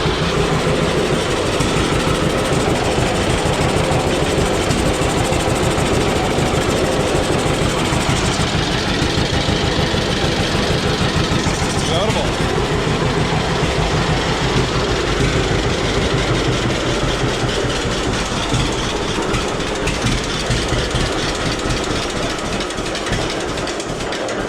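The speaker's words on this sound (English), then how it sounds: "Pull the throttle back or it'll sit here and idle forever." An engine fitted with a newly finished flywheel guard idles loudly and close, a steady rumbling thrum with rapid regular pulses running unbroken throughout.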